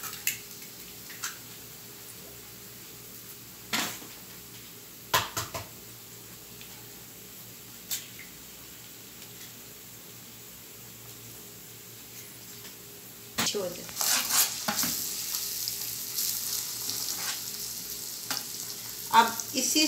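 Eggs poured into a pan with green chillies and spices, frying with a soft steady sizzle and occasional stirring scrapes, growing louder toward the end as a person talks over it.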